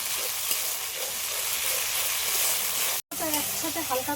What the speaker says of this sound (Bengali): সবগুলো একসাথে একটু হালকা করে ভেজে নেবো